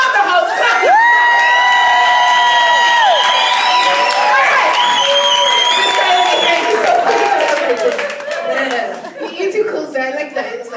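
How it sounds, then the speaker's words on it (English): An audience claps, cheers and whoops at a live stage comedy show, loud and close, with voices shouting and music-like tones riding over the crowd noise. "So just clap if you're here to have a really good time with me."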